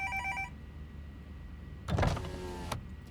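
A bell rings to call Adam in the video game Road 96: a brief, bright trilling chime at the start, followed later by a mechanical whirring sound over a low hum.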